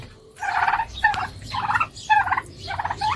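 Domestic turkeys of a native, non-hybrid breed gobbling repeatedly in a pen, with four or five rapid rattling gobble bursts in quick succession, fairly close and clear with no talking.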